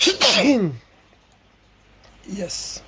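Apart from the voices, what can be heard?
sneeze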